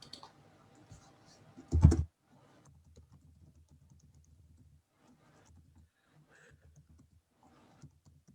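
Sparse, faint keystrokes on a computer keyboard while typing a line in a Word document, with one louder clatter early on and quiet gaps between taps.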